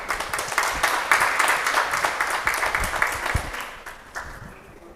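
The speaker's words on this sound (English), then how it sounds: "let us give big applause again to all participants and all the speakers" Audience applause for participants and speakers at the close of an engineering conference session at the Faculty of Engineering, UKI: dense, steady clapping from a crowd that holds strong for several seconds, then thins and fades toward the end.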